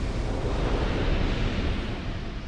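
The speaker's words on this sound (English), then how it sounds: "I do love the fact that explosion damage is cumulative in this game" A booming explosion in the video game Dark Souls II, a dense, loud roar that sustains steadily for a couple of seconds without any speech.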